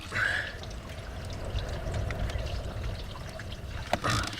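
Rainwater trickles and runs into a Land Rover Discovery 2 in windy weather, a steady close pouring and dribbling with a few sharper drips and knocks.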